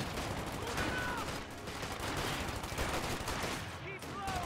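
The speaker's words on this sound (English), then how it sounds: "I put a machine gun now in here to help protect" Machine gun fire rattles through a Company of Heroes 2 urban battle between Axis and Allies, steady bursts of gunfire and scattered shots layered thickly throughout, with a voice faintly present.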